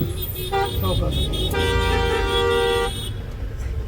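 Car horns blare in busy city traffic over a low engine and road rumble. One long, loud sustained honk holds for over a second, with shorter toots around it.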